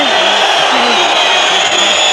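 Boxing arena crowd after the Diego Corrales vs Angel Manfredy fight, part chanting a name in rhythm while much of the rest boos, a dense, steady, loud roar of many voices throughout.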